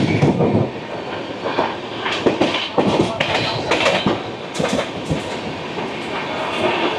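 The 12353 Lalkuan Express pulls out of Asansol Junction station with continuous rolling rumble and clattering wheel knocks on the rails, heard from on board at moderate loudness, with faint voices in the background.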